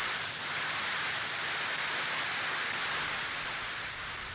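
Simulated tinnitus sounds as a steady high-pitched ringing tone over a broad hiss, loud and continuous, fading slightly toward the end, with no voices.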